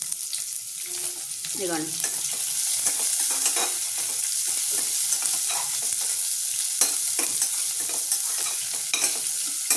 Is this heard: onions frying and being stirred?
yes